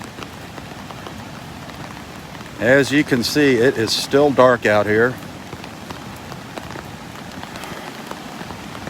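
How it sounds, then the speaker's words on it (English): Rain falls steadily on Vanderbilt Beach in Southwest Florida before dawn, a constant soft patter and hiss throughout. Someone talks briefly over it in the middle. "It has been raining all morning."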